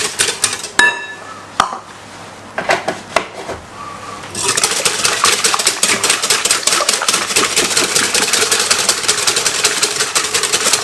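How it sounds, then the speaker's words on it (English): Whisk beating a milk batter for Yorkshire puddings in a bowl, scattered clinks at first, then a fast, steady, close rattling whisking that runs continuously to the end. "You want to whisk it."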